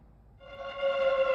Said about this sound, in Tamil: ரவி சார் ஃபோனை கூட எடுக்க மாட்டாரு.